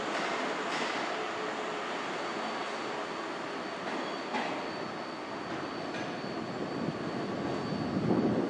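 A passenger train service to Aberdeen rumbles past at a distance, a steady broadband roar that holds evenly and swells slightly toward the end, with no voices.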